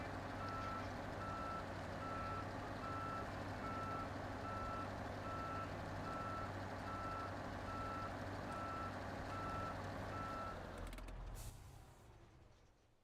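A truck in a video game backing up, its reversing beeper pulsing in an even rhythm over a loud, steady engine drone. The beeping and drone stop near the end and leave only a quieter hum.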